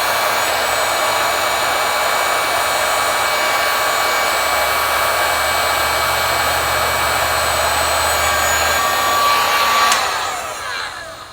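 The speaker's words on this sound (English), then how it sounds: "we're going to be using a heat gun for that" A heat gun blows a steady, loud whooshing roar as it shrinks heat-shrink tubing over a short piece of wire for a Ford Raptor fuse relocation, running alone for about ten seconds before quickly fading.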